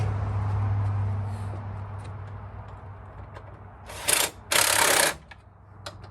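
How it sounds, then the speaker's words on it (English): Short metallic ratcheting bursts as a tool tightens the fuel filter on a 2006 Dodge Sprinter van: two close, loud chattering spells near the end, after a steady low engine-like hum and a quiet stretch. "Now we need a wrench."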